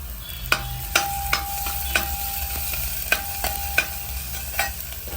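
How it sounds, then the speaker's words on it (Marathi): Finely chopped garlic sizzles in ghee in a pan, a constant frying hiss broken by a spatula scraping and tapping the pan every half second or so, close and moderately loud, with nobody speaking. "ती परतून घ्यायची."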